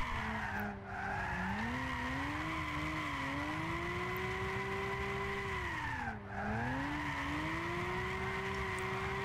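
A Lexus GS300 drift build in Gran Turismo 6 holds long slides, with a steady engine drone and continuous tire squeal whose pitch rises and falls as the car shifts through the drifts.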